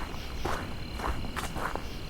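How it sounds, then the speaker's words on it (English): Steady grasshopper and cricket chirping fills a quiet October night ambience, with soft periodic trills repeating in the background. "Also grasshoppers still carrying on, as well as crickets."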